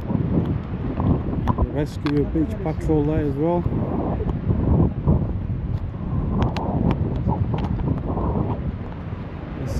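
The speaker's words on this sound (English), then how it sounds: "But it's still windy." Steady wind at the seaside at low tide on Blackpool's front near North Pier, a constant broadband rush running throughout, with people talking over it and a brief high tonal melody passing in the middle.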